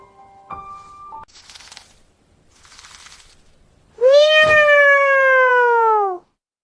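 In an animated cartoon, a cat lets out one long, loud, drawn-out meow near the end, after a few quieter cartoon sound effects.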